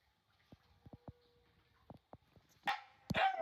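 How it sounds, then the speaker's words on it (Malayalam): A dog barks several times at a distance during a windy, rainy rescue outing, sharp separate yaps spread out in quiet, followed by louder bursts of rustling or wind noise near the end. "കുര കേട്ടോ."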